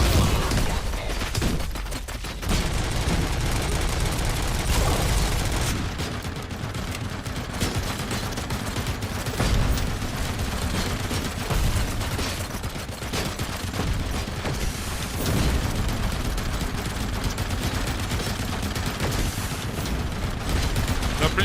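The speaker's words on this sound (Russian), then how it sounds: "Откуда стреляет?" Sustained volleys of gunfire from RoboCop: Rogue City rattle loudly through the whole stretch, dense overlapping shots and booms with little pause, and a voice occasionally cuts in.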